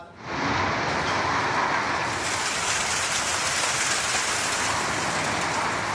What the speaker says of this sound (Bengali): বজ্রসহ বৃষ্টি আর ঝড়ো হাওয়ায় উত্তাল প্রকৃতি।